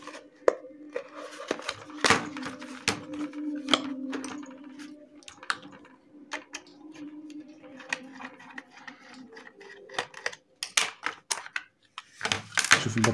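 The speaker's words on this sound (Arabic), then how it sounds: "يبقى أول حاجة نفتح الجهاز" A multimeter case being opened to reach its 9-volt battery, heard as close plastic clicks, taps and scraping knocks at an irregular pace, with a low hum underneath and some louder clacks near the end.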